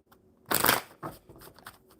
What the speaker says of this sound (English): Dave, I had to do another shuffle there because I set them down.